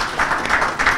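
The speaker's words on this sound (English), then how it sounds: "I think hats off to you and a round of applause." Brief applause from an audience at a realty summit in Chennai, a short burst of fairly loud crowd clapping that pulses unevenly over about a second.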